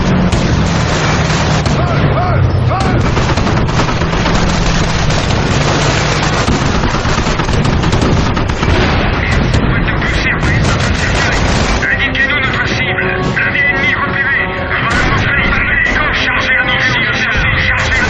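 A dense, loud war film battle with continuous gunfire, explosions and artillery booms layered under shouted French voices, the roar steady throughout with a music-like tonal bed joining in the later part.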